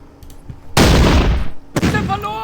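Gunfire and explosions from the WWII strategy game Battle Academy 2 Kursk: a loud blast followed by a rumbling crackle, then a second sharper burst with ringing tones near the end.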